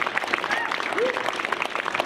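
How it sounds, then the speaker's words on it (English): Crowd applause at the 2019 NEC Wheelchair Tennis Masters, a steady wash of clapping lasting a couple of seconds, with a few voices or cheers mixed faintly into it. "One last round of applause for our 2019 finalist and our reigning champion, David Wagner."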